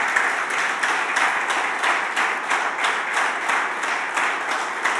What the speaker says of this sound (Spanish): Dale tu mejor aplauso al Señor en esta mañana.